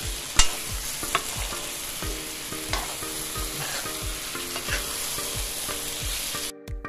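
A curry base for Guyanese fish curry sautéing in a pan, with a steady close sizzle and frying hiss, punctuated by regular soft taps and scrapes of stirring before it cuts off abruptly.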